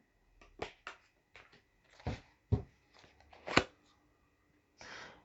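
Tarot cards are shuffled and flicked close by in a quick run of soft, crisp snaps and riffles, quiet, with no talking.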